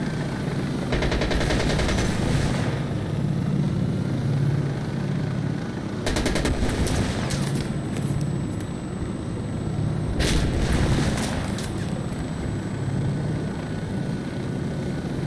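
Insurgency: Sandstorm airstrike on Xbox Series X: a steady droning aircraft roar underlies repeated rapid bursts of heavy gunfire, loud and sustained, with no talking.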